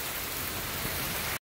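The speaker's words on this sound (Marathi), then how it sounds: "तर पाऊस भरपूर चालू आहे बघा, एवढं सकाळी पाऊस चालू झालाय।" Heavy early-morning rain pours steadily outside a temple, a dense, even hiss close by with no voices, cutting off abruptly.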